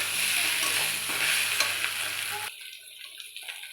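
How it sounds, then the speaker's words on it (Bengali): Fish curry with cauliflower and potato being sautéed with ginger-garlic paste in a pan, a bright crackling sizzle with scraping stirs, loud and close, then cutting down to quieter scattered spatters for the last second. "এবার আমি আদা রসুন বাটাটা দিয়ে তরকারিটা একটু কষিয়ে নিচ্ছি।"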